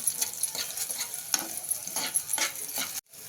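Garlic and cumin seeds fry in oil for a green chilli thecha, a soft, continuous sizzle with rhythmic spatula scrapes every half second before it cuts off abruptly.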